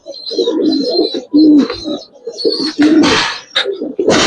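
Giribaz and coloring pigeons kept for sale coo close and loud in rolling bursts, mixed with sudden bursts of noise like flapping wings.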